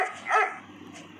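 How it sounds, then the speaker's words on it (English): A cartoon puppy in a Roblox escape game yips and barks in short, close bursts over a quiet game background hum. "You just have to dodge the puppy without killing it."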